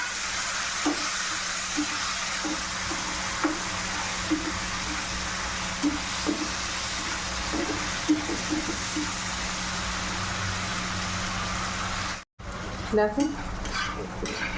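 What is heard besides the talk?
frying spice masala in oil for stuffed eggplant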